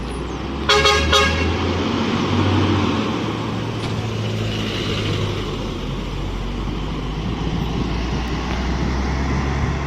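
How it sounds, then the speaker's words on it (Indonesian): A PO Transport Express bus leaves the Bukit Surungan terminal with a short double horn toot, then a loud, steady low engine rumble as it pulls away, with no one speaking. "PO Transport Express bersiap-siap meninggalkan terminal."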